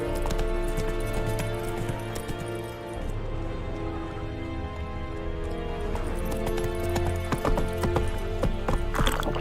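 Horse galloping in The Witcher 3 video game: loud, continuous rhythmic hoofbeats at a steady clip over layered game music and ambience, with a faint whinny.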